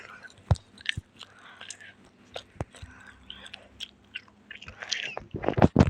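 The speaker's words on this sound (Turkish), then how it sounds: "Bir tane de falım çiğneyim bari." Gum is chewed close to the microphone with soft, wet smacking and crunching, a few sharper clicks, and quiet murmured speech mixed in.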